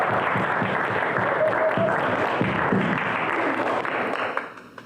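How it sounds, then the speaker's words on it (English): A university poetry event audience gives a round of applause, dense continuous clapping from a crowd that swells and holds, then tapers off quickly at the end. "So I would like for you all to give all of them a round of applause."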